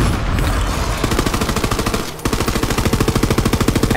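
Rapid automatic gunfire from the video game Borderlands 3, loud and continuous with an even, fast rhythm, a brief dip midway before the burst resumes, no voice over it.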